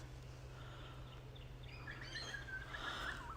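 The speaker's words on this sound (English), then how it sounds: "I can hear the birds. The birds are" Several birds calling and chirping in an Australian forest in spring, faint and distant at first, then brighter, busier twittering builds over a steady low hum of background noise.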